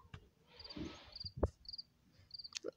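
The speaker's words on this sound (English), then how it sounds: "I love that cricket sound." Crickets chirp in short, repeated high pulses over a quiet background, while a few louder low knocks and thumps break in at intervals.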